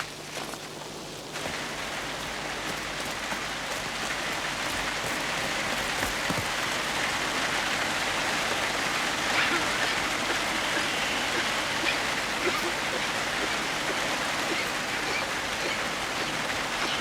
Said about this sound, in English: But not in this rain.